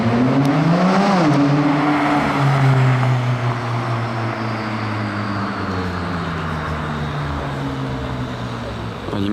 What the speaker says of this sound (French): Départ de la McLaren.